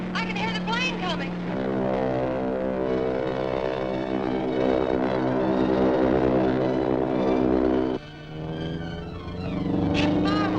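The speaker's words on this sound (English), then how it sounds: "I can hear the plane coming." A propeller airplane engine drones steadily in a radio drama sound effect, a loud sustained hum that swells and shifts pitch as it approaches, with shouting voices over it at the start and end.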